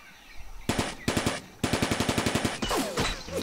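Rifle fire from an AK squad in a Vietnam War strategy game: two short bursts, a pause, then a long rapid string of about a dozen evenly spaced shots, ending in a rougher burst, loud and close with no talk.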